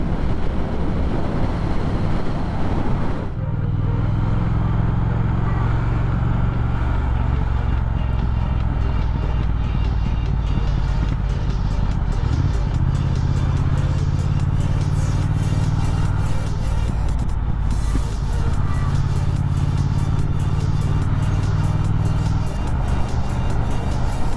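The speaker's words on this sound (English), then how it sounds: "Here we go, some freeway driving." A 2019 Triumph Speed Twin motorcycle riding on a freeway, with loud, steady engine drone and heavy wind rush, the engine pitch shifting a few times as it goes.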